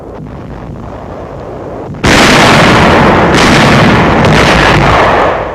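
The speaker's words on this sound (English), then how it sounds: "Firing on enemy barges in the Rhine before Dusseldorf." Artillery fires on enemy barges on the Rhine near Düsseldorf in 1945, a loud sudden blast followed by a sustained roar of heavy gunfire that stays dense and close to the end, with no voices.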